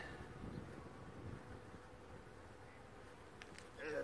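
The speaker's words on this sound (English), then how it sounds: "You can see bees flying." Honey bees buzz continuously and steadily near a hive entrance inside a shed in winter, a soft droning hum with no talking.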